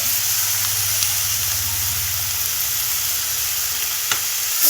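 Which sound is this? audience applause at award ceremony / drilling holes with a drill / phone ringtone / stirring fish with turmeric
stirring fish with turmeric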